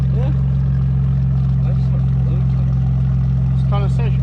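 A Ford Bronco with a small exhaust leak idles close by in a steady deep low rumble, while people talk briefly over it.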